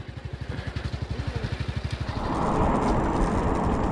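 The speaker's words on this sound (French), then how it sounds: "Une moto qui me suit." A motorcycle engine putters steadily close behind a touring cyclist on a road in Pará, its regular beat giving way to a louder, broader roar as it draws alongside and passes.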